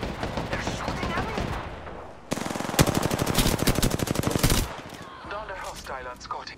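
Rapid automatic gunfire from a firefight in the video game Apex Legends, a dense burst of close, loud shots lasting a couple of seconds, with in-game voice lines before and after.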